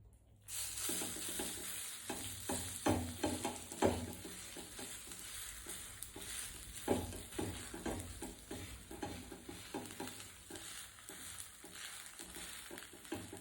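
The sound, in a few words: batter cooking on a hot griddle pan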